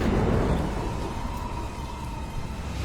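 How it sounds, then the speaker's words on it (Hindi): A deep rumble of thunder rolls under a steady wash of heavy rain, loud at first and easing slightly. "बिजली चमकती है, जोरदार बारिश शुरू हो जाती है।"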